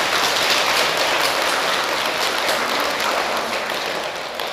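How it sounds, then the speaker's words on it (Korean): Sustained applause from parents gathered at a kindergarten Buddhist parents' service, honouring the kindergarten director; a dense, steady wash of clapping that holds throughout and fades slightly at the end. "다시 한번 큰 격려의 박수 한번"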